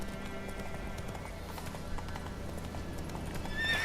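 Roach the horse from The Witcher 3 gallops with rapid, close hoofbeat clip-clops, then neighs sharply near the end.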